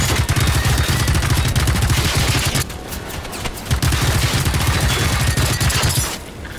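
Sustained rapid automatic gunfire in a video game battle, loud and continuous with one brief pause midway, then resuming before tapering off.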